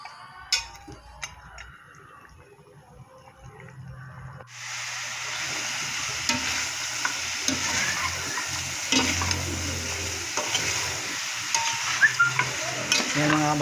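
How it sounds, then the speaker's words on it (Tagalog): Native chicken adobo meat sizzles and hisses as it fries in its own rendered fat. Steady frying crackle rises after a few quiet seconds, with occasional stirring clatter and small ticks throughout. "Halos napiprito na siya sa kanyang sariling mantika."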